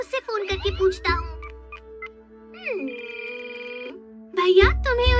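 In a Hindi-dubbed Doraemon cartoon, a telephone plays a short run of dialing tones, followed by steady electronic ringing tones. Cartoon voices speak before and after the ringing.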